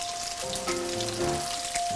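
Rice being stir-fried and mixed for nasi goreng, a steady close sizzle of frying with soft scraping and stirring through the short stretch, no talk.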